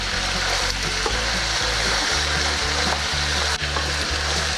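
Pasta tossed in a hot pan of Chinese-style macaroni with dark soy sauce, a steady loud sizzle with rhythmic scraping and stirring strokes throughout, no voices.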